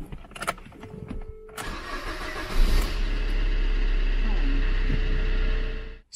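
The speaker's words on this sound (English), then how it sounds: "Start the engine." A car's diesel engine cranks for several seconds while glow plugs charge, then catches and settles into a steady, loud idle that runs on before cutting off abruptly.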